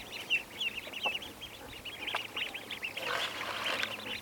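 Young ducklings raised at a tiny house give repeated small quacks and clucking calls, fairly close, with a busier burst of overlapping calls near the end over steady outdoor background.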